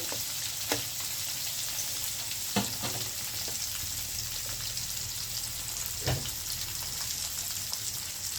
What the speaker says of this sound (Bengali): মাছগুলোকে এভাবে করে সবগুলা ভেজে নেব।